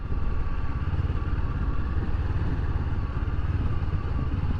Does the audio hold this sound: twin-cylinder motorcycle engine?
yes